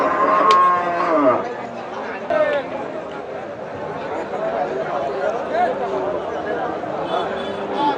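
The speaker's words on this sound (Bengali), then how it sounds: "এখানে একটি মাংসের গরু দেখছি" Meat cattle at a busy rural cow market moo loudly and repeatedly, long drawn calls rising over constant crowd chatter and people talking nearby.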